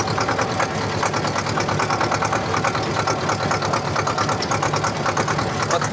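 A T-25 tractor engine runs steadily while the tractor drives toward a forest, a loud, close, continuous rhythmic diesel chug with no pause.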